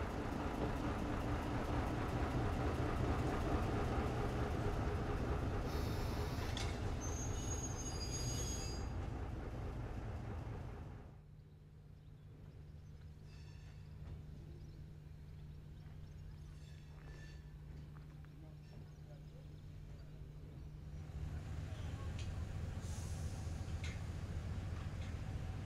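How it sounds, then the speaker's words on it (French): Railcar X 2425 of the Agrivap heritage railway moving out of a station platform, a steady rolling rumble with faint high wheel squeals, dropping to a quieter low hum midway before swelling again. "L'X 2425 libère le quai afin de permettre au convoi de l'Agrivape de venir reprendre ses"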